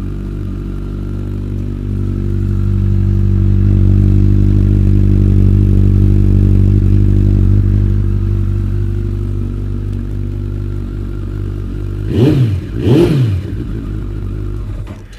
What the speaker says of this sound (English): Two Brothers exhaust is incredible. It's not obnoxiously loud, but it's a deep growl.